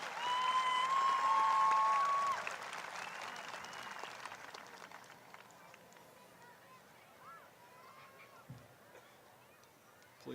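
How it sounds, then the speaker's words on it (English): A graduation ceremony crowd applauds the class of 2022 gold, silver and bronze medal winners. The clapping is loud and dense for about two seconds, then quickly thins into a softer, scattered patter and room murmur. "Let's give a big round of applause for the class of 2022 gold, silver, and bronze medalist awards winners."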